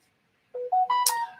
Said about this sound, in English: That's my phone telling me that someone on YouTube's gone live